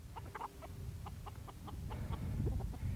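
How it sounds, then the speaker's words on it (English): Hens cluck in short, repeated bursts close by, over a low rumbling background, with one bird's calls rising more insistently toward the end. "these are our hens."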